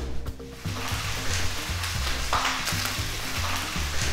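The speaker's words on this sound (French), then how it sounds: "la première étape, c'est de faire colorer les parures de volaille" Poultry trimmings browning in a little oil in a pan, giving a steady close sizzle and frying crackle with some low bumps of stirring or pan movement throughout.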